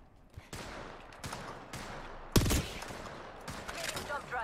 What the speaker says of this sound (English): Oh, I think that's a sniper.